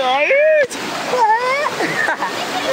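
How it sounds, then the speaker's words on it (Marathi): Water splashes and rushes steadily under loud, excited talking that continues throughout. "गाईस फुल प्रेशरनी पाणी."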